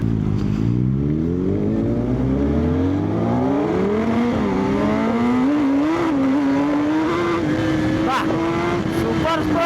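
A Suzuki Hayabusa Gen 3 sport motorcycle, rated at 190 bhp, roars loudly as it is ridden, its engine pitch sweeping up through the gears and then holding high and steady, close and dominant throughout.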